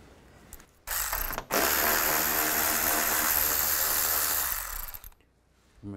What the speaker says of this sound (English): on both sides, you want to take these bolts out. Use a 10 millimeter socket.